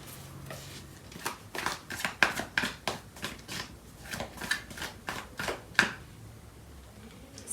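Tarot cards are shuffled by hand in a quiet room, a steady run of about a dozen crisp, papery riffles and slaps, close and moderately loud, with no talking.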